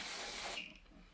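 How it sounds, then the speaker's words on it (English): Garnier Fructis Texture Tease hair spray is sprayed into the roots of hair flipped upside down, a close, steady aerosol hiss lasting about half a second before it cuts off into quiet. "And I just flip my hair over and I spray this into the roots."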